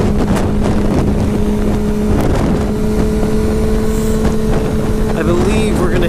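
A Ducati 1199 Panigale S motorcycle pulls hard after an upshift with the throttle held open, its engine a steady droning note buried under heavy rushing wind noise throughout.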